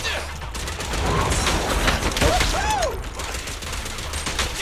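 Billy fires his guns in Zenless Zone Zero, with bursts of rapid gunfire and whooshing effects layered over game music, with a voice briefly in the mix.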